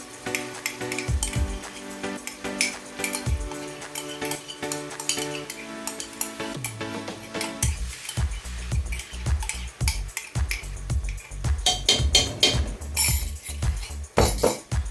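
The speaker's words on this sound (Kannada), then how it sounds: "ಏನು ನಾವು ಮ್ಯಾರಿನೇಟ್ ಆಗಿ ಇಟ್ಟಿದ್ದೀವಲ್ಲ ಈ ಮೊಸರನ್ನ ಇದಕ್ಕೆ ಮಿಕ್ಸ್ ಮಾಡೋಣ ಫುಲ್." Marinated yogurt is stirred into a tomato masala in a pan for veg biryani, giving wet squelching and repeated metal spoon scrapes and clinks against the pan, with a faint sizzle underneath and no talking.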